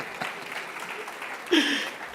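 A conference audience at a Zabbix technology event gives a brief burst of applause, swelling near the end, with a voice briefly heard.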